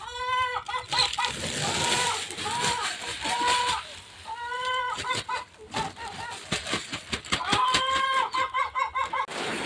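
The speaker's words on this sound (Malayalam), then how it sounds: "കോഴികളെല്ലാം ഓടി ഉള്ളിൽ കയറിയിട്ടുള്ളത്." Chickens in a rainy farm coop cluck and squawk repeatedly in short rhythmic bursts, fairly close, with patter and splashing sounds mixed in and a voice talking faintly.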